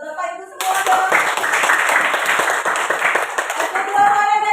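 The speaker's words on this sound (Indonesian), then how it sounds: "Tepuk tangan buat Bapak Ibu semua dong." Audience clapping hands at a school gathering, a steady run of many hands applauding together in close, dense bursts, with talk over the start and the end.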